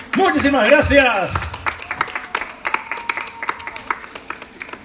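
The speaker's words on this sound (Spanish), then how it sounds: "Escuchan ahí los aplausos de acá a la vuelta." Scattered clapping from neighbours around the corner, heard after a tenor's balcony concert: distant, uneven claps that keep going, with someone speaking loudly over the start.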